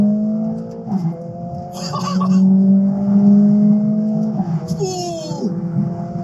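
A Mercedes-AMG A45S with its 2.0-litre engine accelerating hard in race mode, a loud droning engine note climbing in pitch with a brief gear-shift break, continuous throughout.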